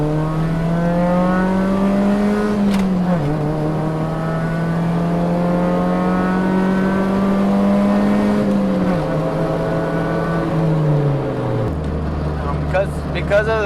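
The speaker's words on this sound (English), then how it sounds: "Go ahead and give it a little gas." A 1999 Honda Civic Si engine hums steadily, its pitch rising and falling as it revs a little, ending in a lower idle; a voice speaks faintly over it.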